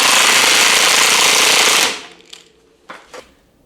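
A power drill runs in reverse on a vehicle's rear differential, a loud, continuous rattling whir for about two seconds that stops abruptly, followed by a few faint clicks and knocks.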